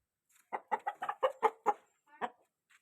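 An aseel rooster gives a quick run of about eight sharp, close clucks in a row, then one more after a short pause, with a quiet background.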